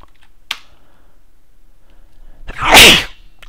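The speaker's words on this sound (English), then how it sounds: "I'm probably going to sneeze again" A single loud, close sneeze near the end, preceded by a faint sharp click, otherwise near silence.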